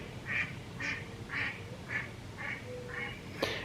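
Ducks in a backyard give six quacks at an even, unhurried pace, moderately faint, with no talking.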